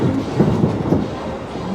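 The Disneyland Railroad train rolls along its tracks at Disneyland Resort, a steady rumbling clatter of wheels on rail with soft rhythmic clicks, heard from on board with no voices.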